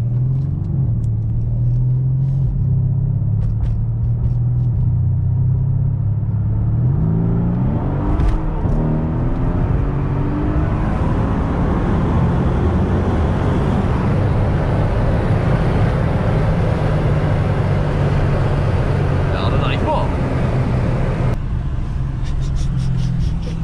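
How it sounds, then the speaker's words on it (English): Two cars, a Mercedes-AMG C63S coupe and an Audi RS5, run a drag race, with a deep engine rumble building as they accelerate hard and pull through gear changes. The loud roar stays steady throughout, with no talk. "So now we have a drag race with a C63S coupe and the new RS5"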